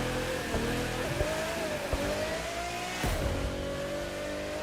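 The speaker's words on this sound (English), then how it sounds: "we are enjoying this Pagani Zonda through the lovely forest" Pagani Zonda engine in the racing game The Crew 2, a continuous close engine drone with pitch that rises and dips through gear changes while driving through a forest, with no talk.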